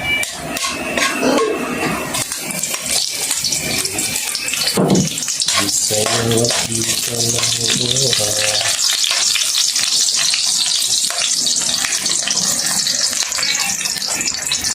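Garlic and onion frying in oil in a pan for Filipino laing, a loud continuous sizzle with stirring scrapes and a brief burst of bubbling partway through.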